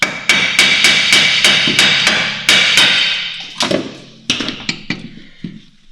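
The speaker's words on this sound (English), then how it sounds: "now we can remove the whole arm, maybe just a couple of taps" Hammer taps freeing the suspension arm of a Skoda Felicia or Volkswagen Caddy during ball joint replacement, a quick run of about a dozen sharp metallic blows, steady at first then more spaced and lighter, close and loud.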